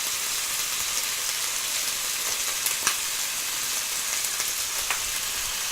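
Turmeric, chili powder, coriander powder and salt fry in a pan for mango sambhar, producing a continuous close sizzle with faint crackles and small stirring clicks and no voices.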